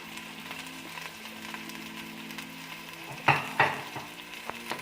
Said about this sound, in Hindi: इसमें हम ज़्यादा ऑयल नहीं डाल सकते हैं, वो भी मैं आपको बताऊंगा क्यों और कब डालना है बाकी ऑयल। अभी मैं डाल रहा हूँ प्याज